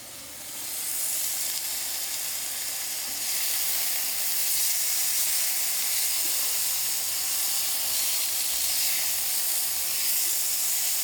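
Steaks sizzle steadily on a PowerXL smokeless indoor grill, a continuous close hiss and crackle lasting throughout, with no talking over it.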